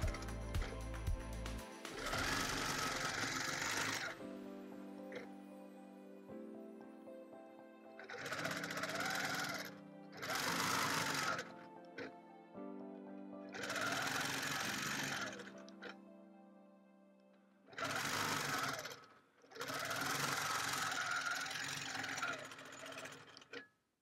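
A long-arm quilting machine stitching a Celtic Wedding Ring quilt runs in a series of loud, whirring bursts separated by short pauses, with a steady hum in between.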